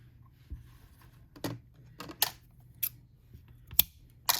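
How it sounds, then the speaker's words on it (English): Scissors snip a cord for a silicone beaded keychain, a few sharp, separate clicks close by in a quiet room. "The first step is to cut the cord"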